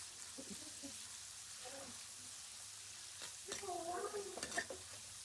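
Onions with a quarter spoon of turmeric roast in a pan until soft, giving a quiet, continuous sizzle with soft stirring noises. A faint voice can be heard briefly in the background.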